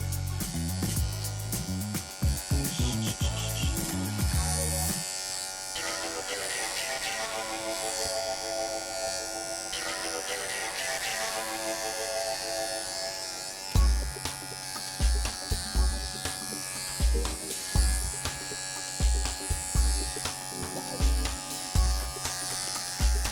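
Wahl professional electric clippers run steadily while grooming a dog, giving a close, continuous buzz whose pitch shifts as the blade moves through the coat. Soft rhythmic bumps of the clipper against the fur come in during the later part.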